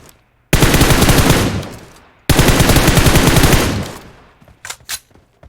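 PUBG Mobile gunfire played on an emulator: two long, loud bursts of rapid automatic fire, each ringing out and fading, followed by a few short, quieter shots near the end.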